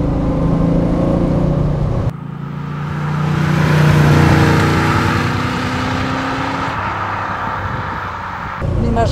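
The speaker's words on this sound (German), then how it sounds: "Die Maschine hört sich kerngesund an. Kerngesunder Motor, was?" A 1972 De Tomaso Pantera's 5.8-litre V8 runs loud and steady with a deep rumble, swelling as it revs up mid-clip before easing back, with brief cuts in the sound.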